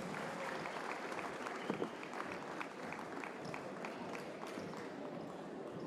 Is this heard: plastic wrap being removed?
no